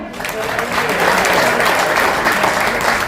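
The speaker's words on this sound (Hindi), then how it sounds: "एक बार जोरदार तालियां" Crowd at a comedy poetry gathering for Independence Day in Gagan Vihar breaks into hearty applause, a loud, continuous wash of clapping that swells and holds steady throughout.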